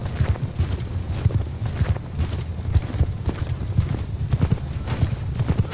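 Horse archers' hooves clip-clopping in Mount & Blade 2: Bannerlord battle, a loud, rapid, continuous drumming of many galloping horses close by with a dull low thud throughout.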